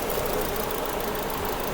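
A three-cylinder minivan engine idles with the cylinder 2 injector unplugged, giving a steady, close, continuous rumble with a faint uneven knock and no talking.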